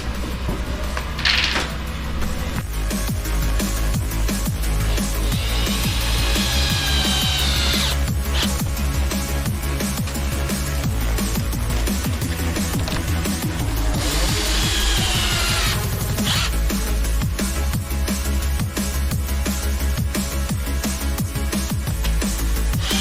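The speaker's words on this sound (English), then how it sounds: "So I still haven't put my screws in, which is what I'm going to do now." Cordless power drill driving screws into a composite front splitter on a Mercedes A35 AMG, short whirring bursts of the motor repeating across the clip against steady background noise, no talk.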